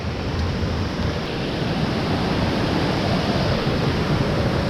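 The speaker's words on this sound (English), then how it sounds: "That's the biggest waterfall I've ever seen." A very large waterfall roars as a steady, dense broadband rush, loud and continuous throughout with no voices.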